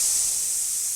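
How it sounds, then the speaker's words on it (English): Steady bright hiss like steam escaping, loud, close and continuous for about a second with no break and no talking. "Sounds like steam escaping."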